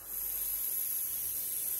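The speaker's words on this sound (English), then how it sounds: "If I put some, just a few drops of thinner in there and spray it onto this white towel" An airbrush sprays a few drops of thinner onto a white towel, a steady close hiss of air that starts almost at once and runs evenly without a break.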